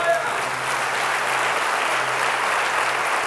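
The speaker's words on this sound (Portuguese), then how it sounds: "Aplauda o Senhor nessa noite." A church congregation applauds during a Sunday service, a steady, dense wash of many hands clapping that holds at even loudness throughout, with faint voices underneath.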